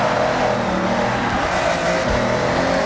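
A loud, steady V12 sports car engine roar in a video game, droning continuously at high revs with a gritty rumble, close and without pauses.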